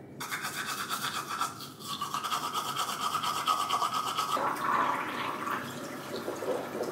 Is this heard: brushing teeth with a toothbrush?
yes